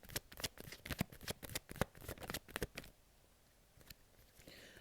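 A deck of tarot cards being shuffled by hand, a rapid run of crisp riffling flicks for about three seconds, then quieter soft handling of the cards, close and without any talk.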